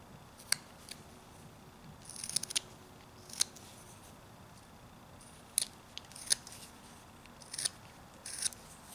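A whittling knife cuts into a small carved wooden character, giving faint, sharp snips and scrapes in irregular bursts against a quiet background, with no speech.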